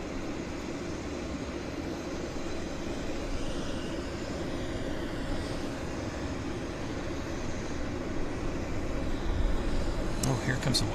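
A WestJet airliner begins its takeoff roll at Vancouver Airport, a distant, steady engine roar building slowly under broad outdoor wind and rumble, faint and far off throughout.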